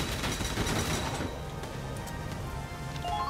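Gunfire in the Valkyria Chronicles 4 video game: a dense burst of rapid shots rattles loudly for about a second, then gives way to quieter battlefield ambience with a few faint pops.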